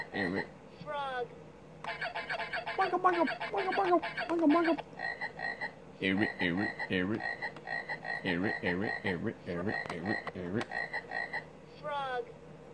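Repeated frog croaking comes in several close, loud runs of pulsing calls, mixed with chirpy electronic-sounding tones and brief voice-like sounds.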